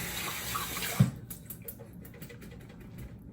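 A synthetic shaving brush is rinsed under running water, giving a steady faucet hiss with a small splash near the start before the flow quiets.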